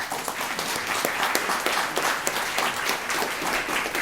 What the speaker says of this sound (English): So please give a round of applause for ODoherty.